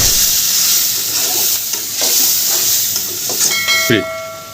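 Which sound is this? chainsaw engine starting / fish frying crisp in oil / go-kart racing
fish frying crisp in oil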